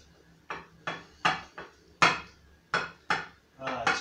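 A utensil scrapes and knocks against a bowl while thick chocolate peanut butter brownie mixture is mixed, giving about eight sharp, close strokes at an uneven rhythm, with no talk.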